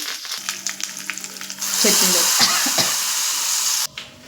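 Dried red chillies, dal and curry leaves drop into hot oil and the pan bursts into a loud, sustained sizzle after some earlier clatter. The sizzle cuts off abruptly near the end.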